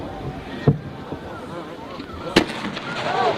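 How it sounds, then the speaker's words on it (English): A large 23-inch German shell bursts at a 1996 fireworks convention show in Muskegon, Michigan, giving two sharp distant reports over crowd noise and an announcer's voice. "23-inch LAMPARE shells from Germany."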